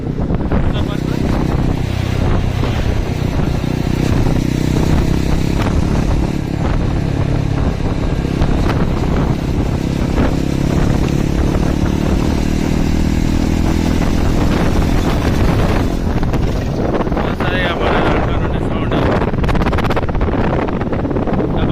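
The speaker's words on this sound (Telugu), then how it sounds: "సౌండ్ అయితే మన సైలెన్సర్ ఎట్లా వస్తుంది తెలుసా?" A single-cylinder motorcycle engine thumps and drones throughout, with wind buffeting the microphone and a voice talking over it.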